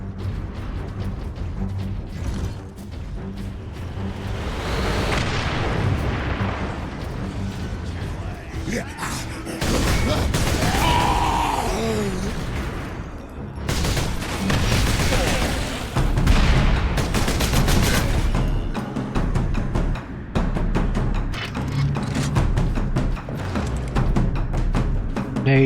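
Grenade blasts and sustained gunfire in Space Marine, dense battle noise with booming explosions and rattling automatic fire throughout, loud and close, with a voice speaking over it at times.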